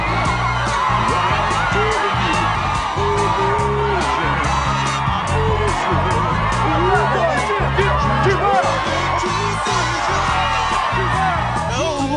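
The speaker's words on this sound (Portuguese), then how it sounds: "E a mulherada gritando aquela coisa toda" A crowd of women screaming and cheering for a singer, a dense continuous roar of shrieks, whoops and babble that stays loud and unbroken throughout.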